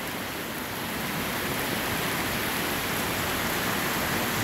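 Very light rain falls steadily in Guajará-Mirim, Rondônia, Brazil, while water runs off nearby, producing an unbroken, even hiss that stays at a constant level from start to finish.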